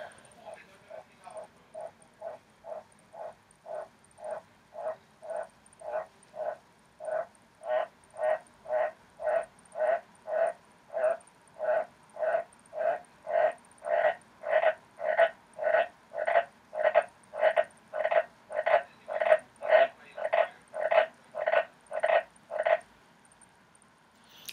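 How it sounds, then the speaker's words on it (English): A male Australian white tree frog croaks close by in a long, steady run of about thirty evenly spaced pulses that grow louder and stronger toward the end before stopping. "That was my white tree frog, Australian white tree frog."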